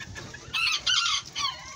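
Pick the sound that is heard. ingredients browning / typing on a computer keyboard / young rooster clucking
young rooster clucking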